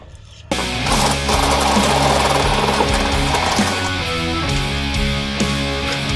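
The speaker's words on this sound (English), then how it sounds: "It's time to drill these out and put a rivet nut in there." A steady mechanical drilling whir as metal is drilled out on a 1961 International Harvester B-163 bus runs throughout after a brief quiet start, loud and close, with a buzzing, grinding tone.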